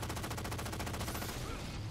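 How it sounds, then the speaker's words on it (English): Rocket launcher fire and explosions during a Halo 4 multiplayer match on a Fiesta capture-the-flag map, a dense, continuous barrage of blasts and gunfire filling the whole stretch at steady loudness. "And rocket launchers!"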